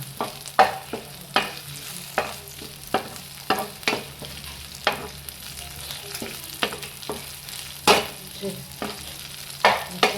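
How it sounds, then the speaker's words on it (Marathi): Red chillies sautéing in a frying pan, a steady low sizzle broken by repeated sharp scraping strokes of a spoon at a regular pace, close and clear with no talking. "रेड चिली घालल्याचें मातशें भाजून घेता"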